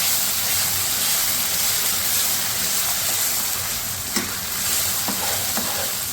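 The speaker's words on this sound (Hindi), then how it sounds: "अब हमने करनी है इसकी भुनाई।" Onion and tomato masala frying for black chickpea curry, a loud dense sizzle running steadily with a few sharp spoon scrapes and taps near the end.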